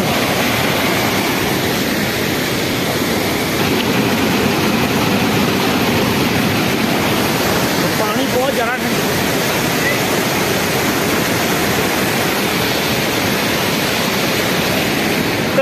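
Fast, cold mountain waterfall stream on the high road to Baralacha in Leh Ladakh, a loud, steady broadband roar of rushing water that continues unbroken up close for the whole stretch.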